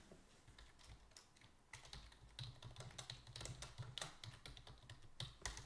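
Typing on a computer keyboard during a live silver pouring session makes quiet, close, irregular key clicks in bursts that grow busier and louder after the first couple of seconds, with no talk.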